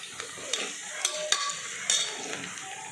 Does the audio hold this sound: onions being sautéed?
yes